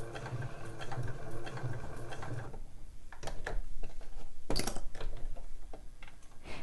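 A sewing machine stitches fabric for homemade slipper boots around a curve, running in a fast rhythmic whir for a couple of seconds, then giving way to scattered clicks and taps.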